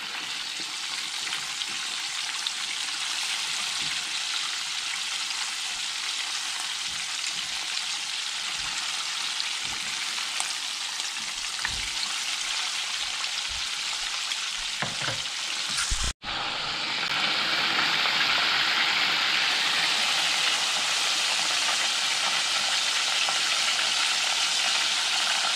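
Chicken deep-frying in oil for a Jollibee-style fried chicken recipe, a dense, continuous hiss and crackle that drops out briefly, then returns louder and brighter.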